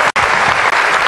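Audience applause on a Turkish TV show, a dense, loud burst of clapping that drops out for an instant and then resumes steadily, with no talk over it.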